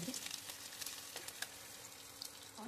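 Food fries in oil with a faint, steady sizzle and scattered soft crackles, quiet and close, with no talk.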